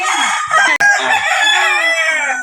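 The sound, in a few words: rooster crowing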